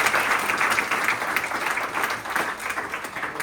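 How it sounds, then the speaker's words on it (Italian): An audience applauds at a political campaign event for the 2025 Veneto regional elections in Vicenza, a dense, sustained clapping that stays loud from start to finish. "vi invito di fare un altro applauso"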